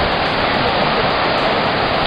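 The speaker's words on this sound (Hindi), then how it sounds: "गंगा नदी का थोड़ा छोटा रूप," The Ganges, a smaller mountain stretch near Gaumukh and Tapovan, rushes loudly and continuously beside a log bridge, a dense unbroken roar of water close by.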